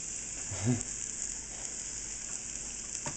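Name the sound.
vegetables sizzling in a hot pan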